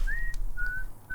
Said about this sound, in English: Is that's just the premonition whistle, right?